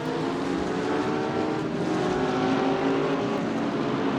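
Porsche and Audi race cars roar through the first chicane at Monza in a 3D Speed Series sim race, a dense, continuous engine drone with layered revving tones, loud and steady throughout.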